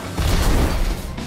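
A catapult firestorm volley from a video game lands as one heavy, low, rumbling boom, loud and close, filling just over a second with no voices.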